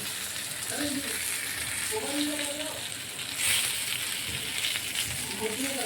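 Pomfret coated in semolina frying in a pan, a steady broad sizzle running throughout, with a voice talking over it in places.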